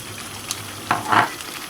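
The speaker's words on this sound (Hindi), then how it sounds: "इसको अच्छी तरह मिक्स कर लें" Semolina halwa with almonds is stirred in a pan over high flame, a soft sizzling bed with two short scraping swishes close by, no talking.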